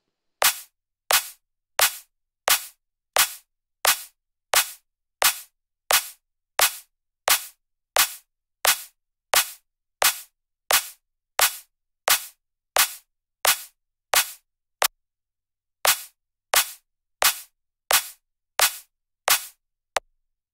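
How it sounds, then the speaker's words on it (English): Sharp, bright noise-burst snare hits synthesized in Serum for a neurofunk drum and bass track, repeating in a steady fast rhythm of about thirty isolated cracks with a brief gap near the end, no voices. "the last layer of snare is some attacking noise made in Serum."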